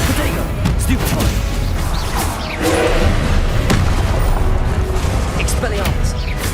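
Spell blasts in Hogwarts Legacy: a dense, loud wash of magical impacts and bursts, with several sharp hits rising above a constant roar of combat, as voices cast the spells.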